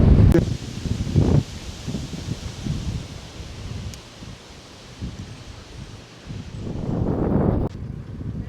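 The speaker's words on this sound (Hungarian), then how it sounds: "Kicsit szeles lett az idő." Wind gusts rush over the microphone and rustle leaves along the Danube cycle path near the Schlögen bend, with rumbling buffets at the start and again near the end and no talking.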